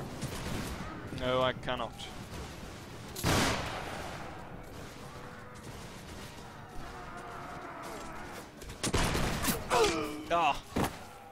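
Musket volleys in an American Revolution battle in the video game Mount & Blade Warband, several sharp loud cracks and rolling bursts scattered through, mixed with shouting voices and someone talking.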